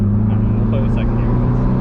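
A turbocharged Saab 9-5 pulls in second gear with a steady, close engine drone heard from the cabin, under brief talking.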